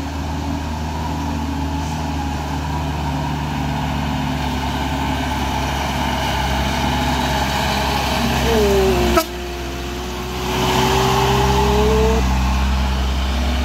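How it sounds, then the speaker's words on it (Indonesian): Trucks and trailers creep in a traffic jam on the Kedabuhan hill climb, their engines a continuous low, heavy drone. A brief sharp click and a rising whine-like tone cut through near the end. "Truk-truk terus berdatangan di sini."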